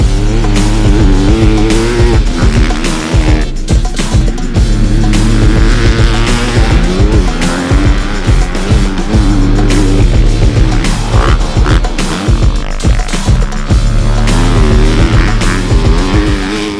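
A 2024 Honda CRF250 dirt bike rides hard, its loud four-stroke engine revving up and down through gear changes and corners, close and continuous with no talk.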